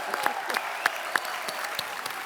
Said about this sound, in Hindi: डॉक्टर साहब के लिए जोरदार तालियां।